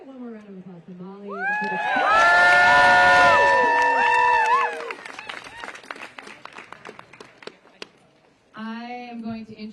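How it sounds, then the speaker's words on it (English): A rally crowd in Washington bursts into cheering and shouts over applause, swelling loud for a few seconds, then thinning to scattered claps before a voice resumes speaking. "Can we get one more round of applause for Molly?"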